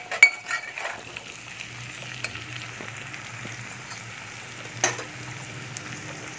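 Spices and chicken frying in a pan with cumin and coriander powder, a soft steady sizzle close by, broken by a few sharp clinks of a utensil against the pan.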